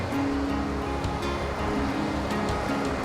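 Ocean surf washes in steadily close by, a continuous rushing wash of waves with no talking over it.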